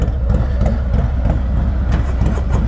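A Stage 2 Harley-Davidson Low Rider ST idles from a cold start at slightly raised RPM. Its loud, close, rhythmic pulsing is alone, with no talk.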